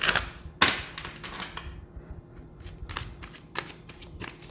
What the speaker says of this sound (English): I was doing my best to shuffle.